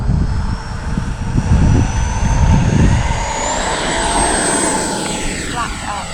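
An RC L-39 model jet, a Fly Fans Black Diamond, roars on its takeoff run with a loud, steady jet whine that climbs in pitch as it accelerates away.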